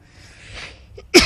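A single sharp sneeze from a character in the video game Alan Wake bursts out near the end, close and loud, after a stretch of quiet room tone.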